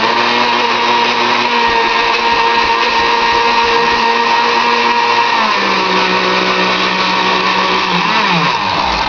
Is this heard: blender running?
yes